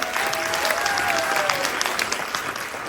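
A live concert audience at a Dagestan performance applauds, dense continuous clapping for three seconds, with a faint voice or tone running briefly underneath.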